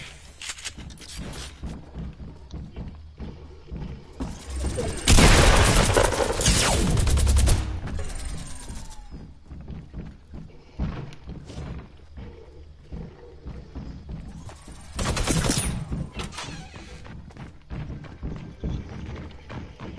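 A pump shotgun fires in a PS4 shooting game, with two loud separate bursts of gunfire, one early and one later, standing out over quieter in-game background noise.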